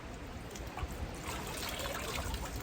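Water trickles and drips steadily as a soaked wooden drum shell with a curved drumhead is lifted out of its soaking bath, a close, continuous dribbling with no talk.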